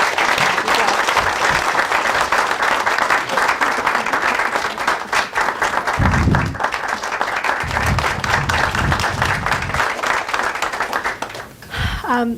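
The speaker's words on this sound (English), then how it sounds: "if we could just give Hugh a round of applause for his participation" A seated audience claps for a departing panel guest at a speaker-series event on refugees' stories, a dense, steady round of applause lasting throughout with no voice over it, thinning slightly at the very end.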